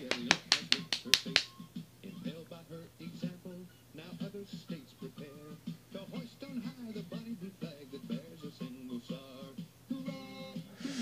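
A lone person claps about seven quick, sharp times at a Stonewall Jackson-themed recruitment event; the claps stop after a second and a half and a voice talks on without pause.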